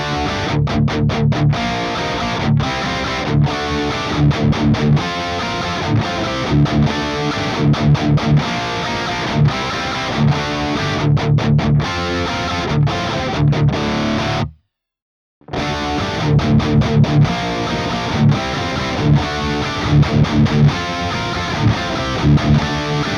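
Heavy distorted high-gain electric guitar through an EVH 5150 III amp chugs through palm-muted metal riffs, loud and rhythmic, with one brief gap of silence midway.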